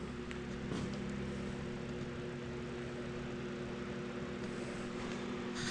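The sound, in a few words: homemade shop heater fan running on low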